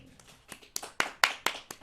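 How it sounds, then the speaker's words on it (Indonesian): A few people clap in a quiet room, a short run of sharp, separate claps that start faint and grow louder, roughly evenly spaced, with no crowd roar. "Tepuk tangan."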